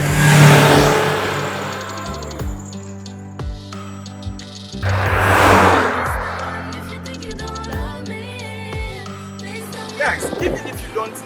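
A 2012 Toyota Vitz with a 1.3-litre petrol engine and automatic transmission runs nearby and revs up twice in rising, falling swells, with someone talking over it.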